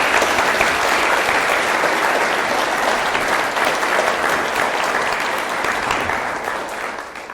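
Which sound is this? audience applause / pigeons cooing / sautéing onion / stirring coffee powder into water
audience applause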